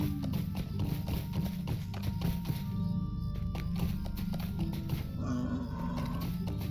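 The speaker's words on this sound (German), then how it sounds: "mal wieder mein Pferd hier zu reiten." Horse hoofbeats from riding in a Lord of the Rings video game, a steady rapid clip-clop running continuously under a low droning game soundscape.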